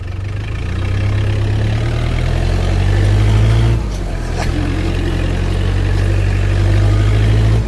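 A farm tractor engine running at idle nearby, a loud, steady low rumble that holds throughout with a slight dip partway through.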